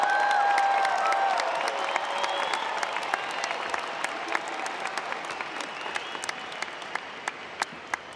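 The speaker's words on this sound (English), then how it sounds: "Big round of applause." Graduates and guests at a university graduation ceremony break into a long round of applause with some cheering, starting full and gradually thinning, with scattered sharp claps standing out near the end.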